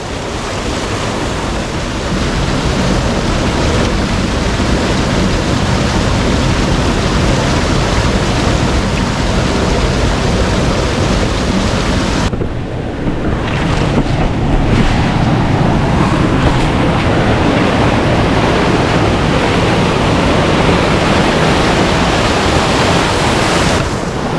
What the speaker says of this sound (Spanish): Mirad qué rápido va aquella cascada.